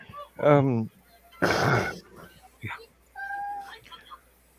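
An upset cat meows loudly in two drawn-out, wavering cries, followed by a short yowl and quieter chirping sounds nearby; no words are spoken.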